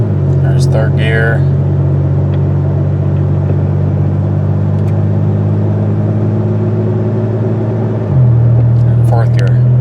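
A Pontiac Grand Prix with a 4T65E automatic transmission cruising in third gear, heard from inside as a loud steady engine drone and road rumble that shifts pitch near the end, while someone talks over it.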